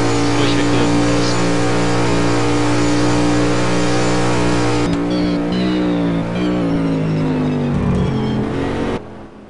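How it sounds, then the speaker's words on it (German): Race car engines roar loudly in a sim racing game at Spa during a GT endurance round, with a sustained, steady drone that shifts pitch midway, then cuts off abruptly near the end. "wir haben die Motoren etwas zu laut"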